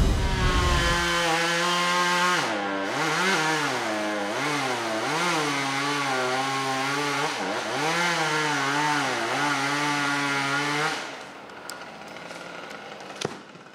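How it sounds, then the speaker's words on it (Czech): A chainsaw cuts trees during tree care in a park beside the Kinský chateau in Valašské Meziříčí, its engine rising and falling in repeated revving surges before cutting off near the end. "pravděpodobně uslyšíte nad hlavami pronikavý zvuk pily"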